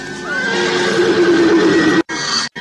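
A horse whinnies loudly and close by, its call rising and then falling over about two seconds, set in an old Javanese kingdom drama, and two brief moments of silence break the sound near the end.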